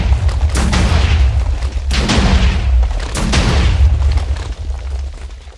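Three loud shotgun blasts from a Minecraft mod game, one roughly every 1.3 seconds, each a sharp boom with a short rumbling tail over a steady low background.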